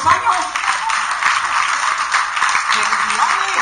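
An audience at a panel session claps in a steady round of applause, with voices mixed in throughout.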